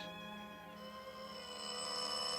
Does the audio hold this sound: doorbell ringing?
yes